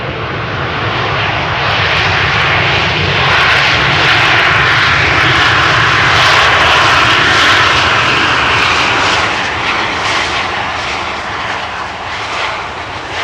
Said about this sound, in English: if they use the thrust reversers, they do make a lot of noise